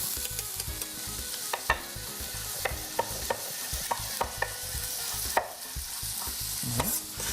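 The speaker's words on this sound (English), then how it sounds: "We're gonna go ahead and throw that right into our skillet." Long strips of sausage hitting a hot skillet for a Cajun jambalaya roll, a constant close sizzle with regular spatula taps and scrapes throughout, no talking.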